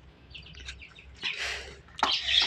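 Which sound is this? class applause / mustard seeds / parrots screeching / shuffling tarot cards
parrots screeching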